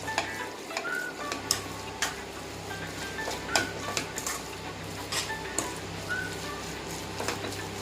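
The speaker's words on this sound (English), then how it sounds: "Now mix everything properly again." Raw mango chutney mixture is stirred in a pan, a steady scraping and sizzling texture with sharp spoon clicks against the metal recurring every second or so, close and fairly quiet.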